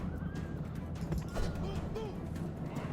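Horses of mounted archer units in a Rome: Total War battle whinny and neigh over a steady din of hoofbeats and battlefield noise, fairly close and continuous throughout.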